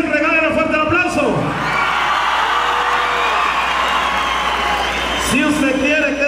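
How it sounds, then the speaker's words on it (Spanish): Audience at a tournament final in Mexico bursts into loud cheering, whoops and applause for Rancho La Revolución, a sustained roar of several seconds framed by a host's voice at the start and end. "regálenle un fuerte aplauso"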